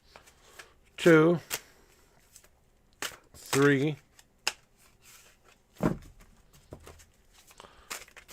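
Tarot cards being shuffled in several separate crisp riffling bursts, close and fairly loud, with a person counting aloud between the shuffles.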